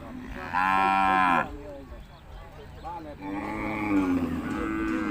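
Beef cattle and bulls at a Thai livestock market in Sikhoraphum low and moo loudly in close succession. The calls are long and strongly harmonic, with market chatter and crowd noise running underneath.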